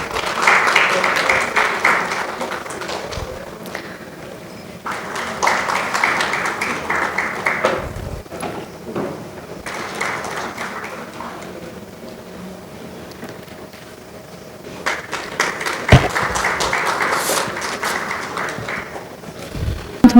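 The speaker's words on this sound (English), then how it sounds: "A big round of applause from the audience." Audience applause at a seminar, several bursts of clapping from a crowd rising and fading, with quieter gaps of murmuring between them.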